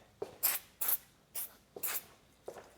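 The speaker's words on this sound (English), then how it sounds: "I'm just spraying there." Maintenance spray hisses onto seized parts of an Audi TT parked for four years, in four short bursts of roughly half a second each, close and fairly loud, with a small click before each burst.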